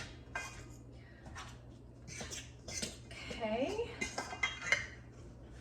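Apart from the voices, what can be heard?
mixing raisins into soda bread dough in a bowl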